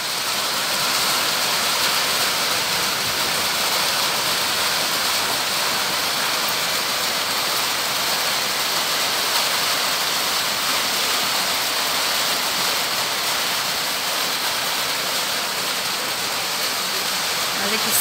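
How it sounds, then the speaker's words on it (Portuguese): Afternoon autumn rain falls in Curitiba: a loud, dense, unbroken hiss of rainfall that stays steady throughout. "Chuva da tarde, outono, aqui em Curitiba, gente. Chuvinha gostosa, né?"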